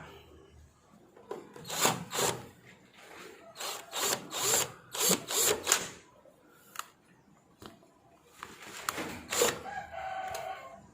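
A power screwdriver trying to drive a new screw into a wooden door frame hole blocked by a broken old screw, several short whirring bursts that stall and restart, close with quiet pauses between.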